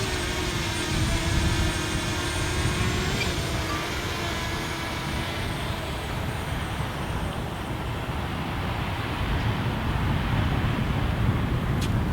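Steady, loud whirring drone of a small flying drone, a constant buzzing hum that never lets up, with broadband wind-like noise and a faint high whine, no voices.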